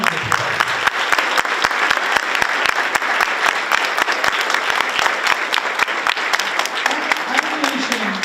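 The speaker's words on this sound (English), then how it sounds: "if you could give these folks a round of applause" A crowd at a school district Veterans Day breakfast applauds Vietnam and Korea veterans, loud, close clapping with sharp individual claps standing out, and a voice briefly audible near the end.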